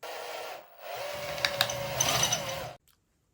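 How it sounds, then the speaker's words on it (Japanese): A long 7.5 mm wiring drill scrapes wood from inside a guitar neck while pressed upward, a steady close grinding with a few sharp squeaks near the end, stopping abruptly. "ちょっとこれを使って上方向にこう押し付けながら奥をねこのドリルでこうかき取っていきたいと思います。"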